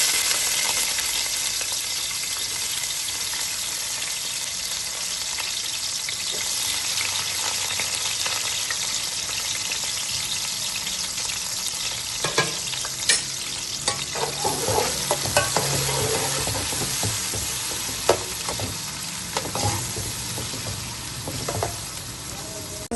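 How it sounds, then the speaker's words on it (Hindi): Chopped onions frying in oil for a chicken pulao, a steady close sizzle with intermittent stirring scrapes growing busier in the second half; no talk. "प्याज ऑयल में शामिल कर देंगे।"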